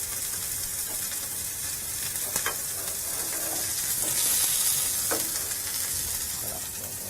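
Duckling frying in a pan over high heat, a steady close sizzle and crackle running throughout with occasional stirring scrapes and a brief rise in hiss midway.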